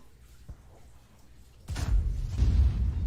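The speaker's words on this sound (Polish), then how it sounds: "Ale słaby strzał." A weak gunshot in a video game, a dull low boom that swells after a brief quiet lead-in with a small thud, muffled rather than sharp.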